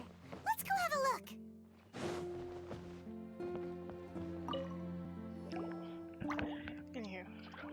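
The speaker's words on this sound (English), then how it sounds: "it sounds like a water droplet is on the second floor" Water droplets in Genshin Impact making a few soft watery drips and squishy plops, faint and spaced apart, with tonal game music sounds and a short burst of voice around them.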